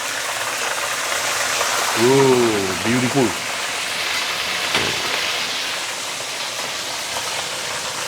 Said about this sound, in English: Deep frying on one side, so I'm going to flip it over.